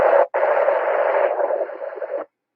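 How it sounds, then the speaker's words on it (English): An FM ham radio on a two-meter simplex frequency has its squelch broken by a burst of open carrier noise, a brief gap then a steady rushing hiss lasting about two seconds before cutting off abruptly. "here's somebody breaking the squelch."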